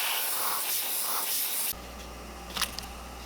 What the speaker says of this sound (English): Just using another airbrush to push my stencil down.